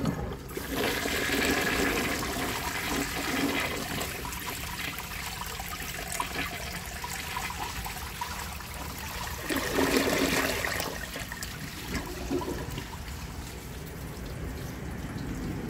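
A 1966 Nationaline toilet flushes a bag down, a loud, close rush and swirl of water lasting the whole stretch, surging again near the middle before draining into a steady trickle, with no talking.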